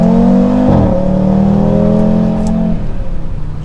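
An Audi RS3 with a full aftermarket exhaust roars loudly under hard acceleration from 2,000 rpm in third gear, its deep exhaust note dipping then climbing steadily in pitch with a brief shift in tone.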